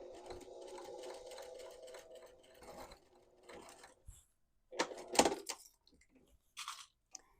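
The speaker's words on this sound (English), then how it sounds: "while I was sewing that, some of it shifted a little bit" A sewing machine stitches a round potholder around a slow curve, giving a quick rhythmic mechanical whir for a few seconds. It then stops, and a few sharp handling crunches and rustles follow in the quiet.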